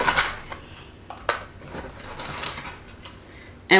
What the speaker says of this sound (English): I am just going to use this little butter knife right here just to loosen it from its edges